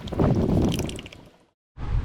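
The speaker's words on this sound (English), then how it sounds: "I'm going to be adding 6 quarts of engine oil" Engine oil glugs and pours through a funnel into a Mazda CX7, a thick, gurgling rush close by that stops abruptly and then resumes after a brief pause.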